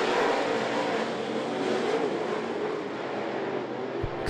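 Steel Head late model race cars roar around I-75 Raceway in a dense, continuous engine drone with no break, loud and sustained across the whole stretch, with a short bump near the end.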